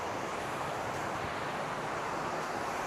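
Strong ocean waves at night on a shore used for night fishing roar as a continuous, broad rush with no clear breaks, heavy and close with some wind buffeting.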